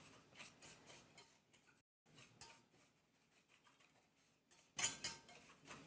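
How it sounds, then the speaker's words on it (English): Sugar and cornstarch whisked together in a bowl: quiet, brisk rhythmic whisk scrapes and ticks in short bursts with brief pauses, ending in a louder clatter of utensil against bowl, with no talking. "I always like to whisk my sugar and my cornstarch together"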